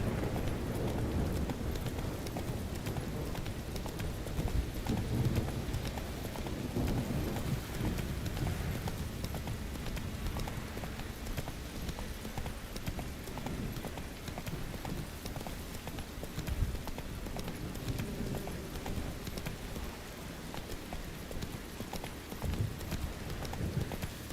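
In The Witcher 3: Wild Hunt, the horse Roach gallops with steady, rapid clip-clopping hoofbeats, heard close and continuous over faint ambient game sound.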